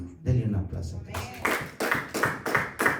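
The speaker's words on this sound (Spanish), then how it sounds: "Denle un aplauso." Congregation clapping during a Spanish-language church sermon, arriving as a short burst of sharp, rhythmic claps in several even beats after a spoken lead-in.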